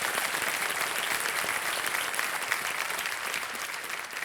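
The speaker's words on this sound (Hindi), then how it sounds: "एक बार फिर से तालियों के साथ हम उनका स्वागत।" Studio audience applause in a televised quiz show hall, steady and dense clapping filling the room for about four seconds without a break, with no talk over it.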